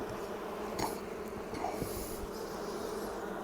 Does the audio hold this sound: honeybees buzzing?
yes